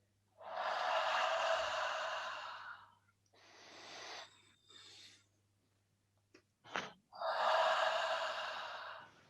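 Long, forceful exhalations blown onto a hand during a breathing exercise, two big airy breaths with shorter softer puffs and a sharp intake between, close and alone.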